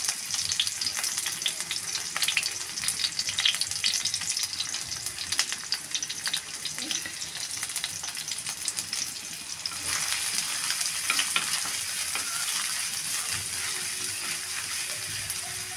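Chopped onion and garlic fry in a pan with a steady, close sizzle and crackle, broken by brief scrapes of stirring, with no talking.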